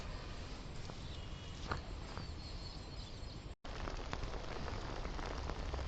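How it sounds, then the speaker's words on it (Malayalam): Heavy rain falls outdoors at a Kerala village fishing spot, a steady fine hiss of drops on surfaces, moderately faint and continuous apart from a brief dropout near the middle. "ഫുള്ള് മഴ പെയ്തു"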